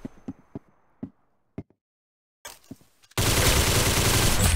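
Video game gunfire, a series of separate sharp single shots with gaps between them, followed by a sudden loud, continuous roar of fire to the end.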